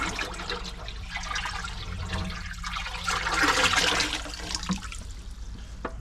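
Water poured from a cooler box into a fish tank holding a newly caught rockling from a South Wales cliff shore, a steady splashing trickle that swells briefly in the middle, heard close with outdoor background and no talk.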